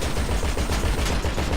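Rapid automatic gunfire rattles loud and continuous in a vehicle combat video game, a dense stream of shots filling the whole moment without pause.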